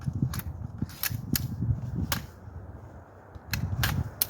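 Sharp metallic clicks and clacks come up close in a quiet room as the bolt of an AR-47 rifle is slid back into an upper receiver from Davidson Defense. There are a few separate hits with short pauses between them.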